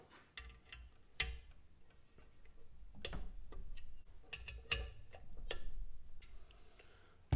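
A torque wrench clicks sharply several times in irregular bursts while plenum gasket bolts on an engine intake manifold are tightened, close and crisp over faint background rustling.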